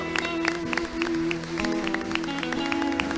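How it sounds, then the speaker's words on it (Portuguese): Scattered hand claps from a church congregation praising Jesus, sounding over a steady sustained musical tone, with a moderate, fairly even level throughout. "Uma salva de palmas no nome do Senhor Jesus."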